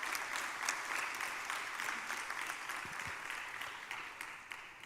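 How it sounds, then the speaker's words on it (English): Audience applause at a university graduation ceremony, a dense, steady wash of clapping that stays loud throughout and eases slightly toward the end. "That deserves a round of applause."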